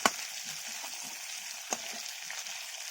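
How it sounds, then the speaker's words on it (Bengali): Elephant foot yam fries in a pan, giving a steady bright sizzle throughout with a couple of sharp utensil taps, close and fairly quiet, with no voices. "ওলটা ভাজা ভাজা হয়ে এসছে এবার আমি মাঝখানটা ফাঁকা করে নিলাম"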